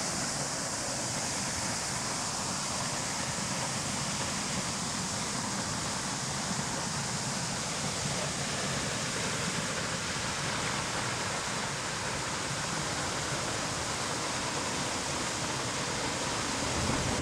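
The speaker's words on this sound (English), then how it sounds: "We decided to fly our Mavic Pro drone up to give you a better view of the falls." Waterfall plunging over a basalt lava plug on an active volcano, a dense, steady roar of falling water that fills the whole stretch without pause, loud and close with no voices.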